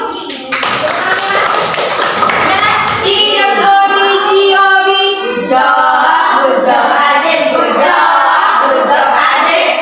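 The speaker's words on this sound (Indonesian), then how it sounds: "Tepuk tangan dulu." Primary-school children clap in a fifth-grade classroom. A burst of rhythmic hand claps is followed by the class chanting together in a sing-song voice while the clapping goes on beneath.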